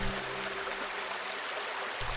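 A creek flows steadily, a broad continuous rush of running water with no voices.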